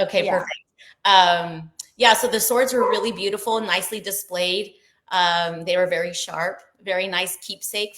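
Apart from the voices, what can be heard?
None of the usual background noises is heard.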